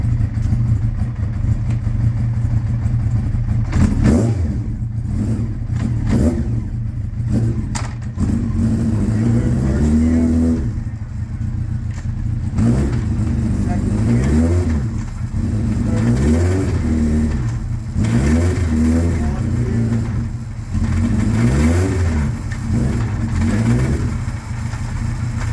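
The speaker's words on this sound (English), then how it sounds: "let me give it a start. I'll actually go through the gears for you." Honda CBR900RR motorcycle engine running and revving through its gears, loud close rumble with repeated rising and falling rev sweeps over a steady idle, no talk.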